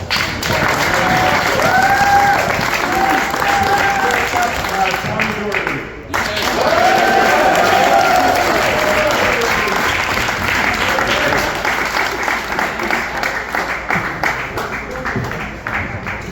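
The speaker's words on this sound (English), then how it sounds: "So let's give each of these guys a big round of applause." Loud sustained applause from a crowd at a high school varsity water polo banquet, dense clapping that briefly dips then resumes, with voices talking and calling out over it.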